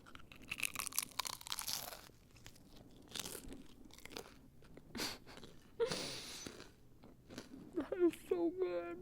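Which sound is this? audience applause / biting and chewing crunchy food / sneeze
biting and chewing crunchy food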